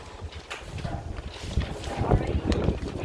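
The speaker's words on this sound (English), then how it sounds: "It's extremely windy here, so you might have some wind noise." Gusty wind buffets the microphone with low rumbling thumps throughout, while a person says a word briefly.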